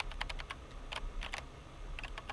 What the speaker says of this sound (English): I can type with my own keyboard.